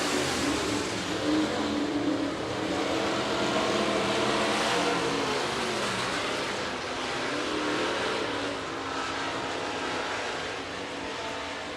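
Stock cars racing around the oval at Buena Vista Raceway, a continuous loud roar of several engines that swells and fades slightly as the pack circles, with no talk over it.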